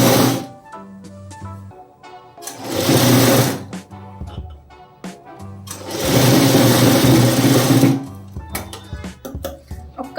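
A sewing machine stitches a blouse in two loud, fast bursts of whirring, clattering needle action, separated by quieter gaps with light handling noises, close by.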